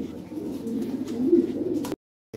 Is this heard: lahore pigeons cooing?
yes